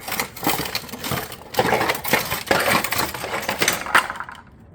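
Bent metal ridge panels for a Pacific tile batten roof being cut. A loud, continuous, close crunching and rattling runs for several seconds, then drops off abruptly.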